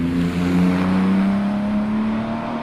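A Lola Porsche race car at the Loton Park hill climb, its engine droning with a steady, loud, sustained tone as it holds revs, close by with no talk over it.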